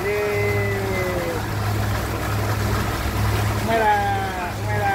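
A motor boat ride on the water in Ipoh, with a steady low engine drone throughout under excited children's voices and chatter close by.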